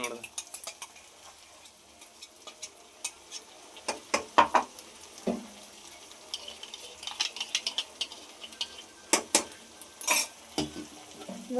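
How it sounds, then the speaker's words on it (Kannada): Ground masala for paneer butter masala fries in a pan, a soft sizzle under repeated clinks and scrapes of a spoon stirring against the pan, close and fairly quiet, with no talk. "ಇದು ಚೆನ್ನಾಗಿ ಫ್ರೈ ಮಾಡಿ"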